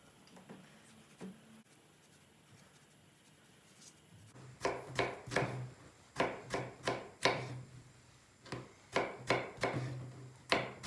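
After a quiet start, a knife chops vegetables on a board in steady, crisp strokes, close and clear, with no talking.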